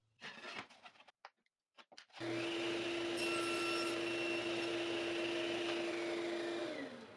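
A power saw spins up and cuts a 1/4 inch hardwood runner to length, a loud steady whining drone held for several seconds after some brief clunks of handling, then winding down, with no talking.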